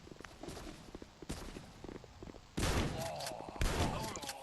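Gunfire in the mobile shooter game Guns of Boom: bursts of rapid shots, then two loud, dense volleys of automatic fire close by, with footsteps and faint background action between them.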